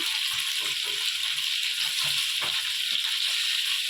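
Fish pieces frying in a pan for a tamarind fish curry, a steady, dense sizzle that holds evenly throughout, close and moderately loud with no talking.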